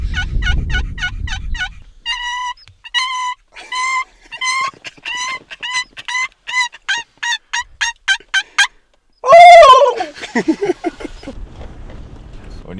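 Wild turkeys gobble in spring bear-hunting country in Washington, with a series of loud, rapid rattling gobbles repeating in quick bursts, some closer and louder than others, amid clucks.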